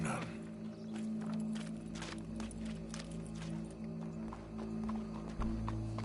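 Horse hooves clip-clop steadily on a road in Red Dead Redemption 2, a continuous moderate walking rhythm over a low game ambience hum, with no speech.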